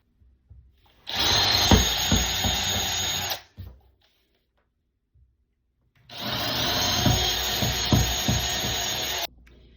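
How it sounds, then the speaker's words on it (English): A power drill bores into a wooden drawer in two loud, sustained bursts of a few seconds each, separated by a short silent pause, with no talking. "press the drill through the holes already on the inside of the drawer"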